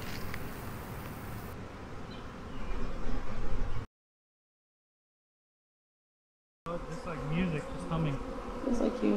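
A swarm of honey bees buzzes in a dense, steady drone outdoors while the swarm is being caught. The buzzing cuts out to silence for a few seconds and then returns.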